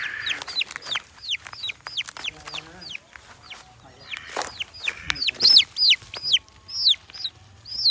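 Chicks and chickens on a farm give repeated short high cheeps and clucks, close and sharp, coming in quick bursts with short pauses, a faint voice occasionally in the background.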